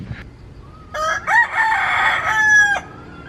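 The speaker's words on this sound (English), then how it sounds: "Jungle chicken." A jungle chicken rooster crows one full, loud cock-a-doodle-doo close by on Monkey Hill in Phuket, with a short cluck just before it.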